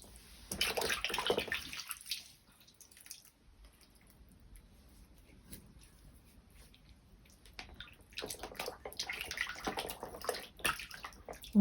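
Water sloshes and splashes in a basin of cooling herbal bark decoction for a foot soak in two bursts, with quiet drips and small movements in between; close and fairly soft.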